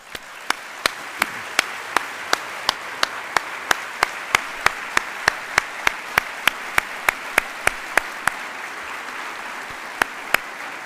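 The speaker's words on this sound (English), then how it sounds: "If you're here in uniform, stand up so the rest of us can give you a round of applause." An audience at a Landon Lecture Series talk by General Martin Dempsey applauds service members in uniform, a sustained wash of crowd clapping with one nearby clapper's sharp, evenly spaced claps cutting through for about ten seconds.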